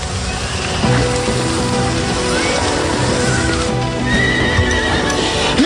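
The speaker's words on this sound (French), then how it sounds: "Les chevaux!" Horses whinny and neigh loudly over a steady clatter of hooves, with a rain-like wash of noise underneath, during a stable emergency.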